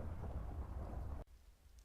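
Thunderstorm in the Minecraft video game: a heavy, rumbling roll of thunder over rain that cuts off abruptly, leaving faint rain hiss.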